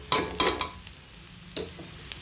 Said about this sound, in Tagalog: kailangan ko siyang papulahin yung sibuyas na kabawang para mabango